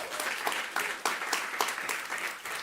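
An audience at a WNYC food-and-health event breaks into steady applause, a dense wash of clapping with a few louder bursts standing out, heard alone with no talk over it.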